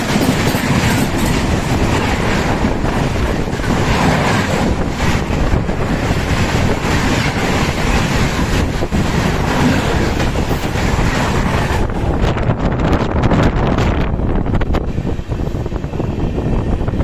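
The Karnataka Express runs on the rails, a loud continuous rumble with rhythmic clickety-clack of wheels and wind buffeting the microphone throughout.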